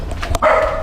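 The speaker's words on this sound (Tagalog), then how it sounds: "galit yung aso sa atin" A dog gives a single sharp, angry bark close by, followed by a brief lingering growl-like tail, at a cemetery tomb.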